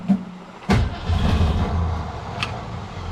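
A 1963 Ford Fairlane 500 engine, pulled from abandoned storage, cranks briefly and catches into a rough, low rumbling idle that holds steady, with a short sharp noise near the start and another later.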